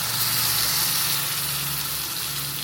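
Tomato puree sizzles steadily in hot oil in a pan for tomato rasam, a loud, continuous, close-up hiss with a low hum beneath and no talking.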